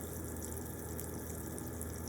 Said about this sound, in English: Let it drain just a little bit.